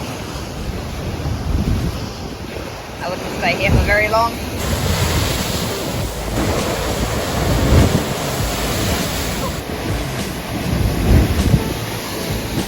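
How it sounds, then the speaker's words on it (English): Ocean waves roll in and crash on a blustery, cold Pacific coastline in Washington or Oregon, a loud continuous surf roar mixed with heavy wind buffeting the microphone, while a person speaks briefly over it. "look at these waves coming in"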